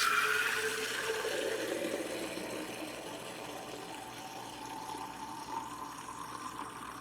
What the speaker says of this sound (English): you basically pump it until water comes out